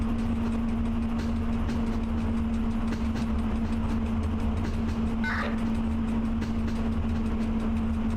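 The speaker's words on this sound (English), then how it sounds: "that climb is really taking its toll on this locomotive." A cargo-hauling locomotive labours up a climb in the Train Driver 2 game, a steady low mechanical drone with a constant hum running unbroken through the whole stretch, with no talking.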